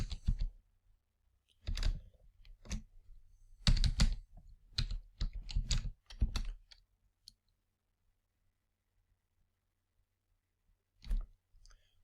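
Bursts of typing on a computer keyboard, clusters of quick clicks separated by pauses, then a long quiet gap before a final short burst of keystrokes near the end; no talking.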